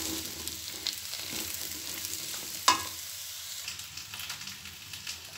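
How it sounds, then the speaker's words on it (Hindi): Potatoes and eggplant fry in a wok with a soft, continuous sizzle while being stirred, broken by one sharp metallic clink of the utensil against the pan partway through. "तो आपां इहनां नूं हिलाउंदे हुए थोड़ा जिहा इहनां नूं बैंगणां नूं वी नाल फ्राई कर लाँगे।"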